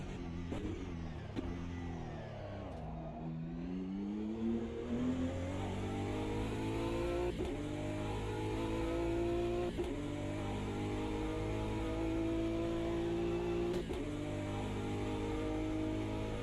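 A BMW race car in Automobilista 2 drones at steady high revs, with a brief dip and climb near the start and sharp clicks at gear changes, close and continuous throughout.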